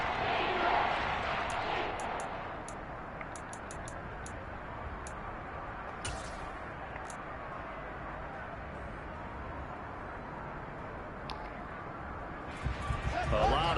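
A stadium crowd in an American football video game roars in a loud, sustained wash with sharp tick-like accents, rising again near the end, while commentary runs over it.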